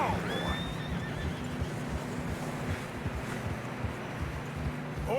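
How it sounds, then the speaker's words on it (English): Horses whinny and neigh while trudging through deep fresh snow in the Red Dead Redemption 2 video game, a dense wintry game soundscape with steady wind and hoof noise, the calls rising briefly near the start and end. "Horses are struggling."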